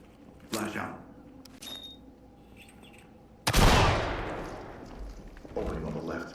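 A flashbang grenade bursts loudly in a tactical shooter game room clearance, a sharp blast followed by a long decaying roar, with faint chirps and brief game sounds before and after.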